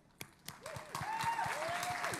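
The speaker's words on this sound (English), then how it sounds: "and for that I applaud you" Applause breaks out from the audience at a charity dance competition event show, starting with a few scattered claps, then swelling into steady clapping under musical tones.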